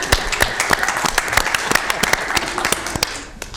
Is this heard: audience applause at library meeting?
yes